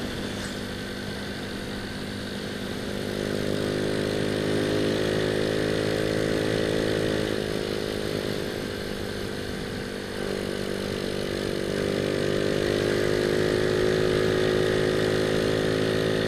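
A motorcycle fitted with a Shogun CDI revs steadily in fourth gear, its engine note rising in pitch and holding a continuous, fairly loud drone.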